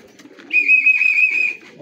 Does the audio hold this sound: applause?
no